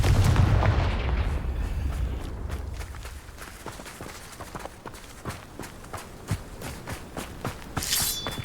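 Confringo fire spell cast in Hogwarts Legacy lands as a loud blast that fades into a decaying rumble, then a series of quick percussive thuds and footsteps, with a bright chime near the end.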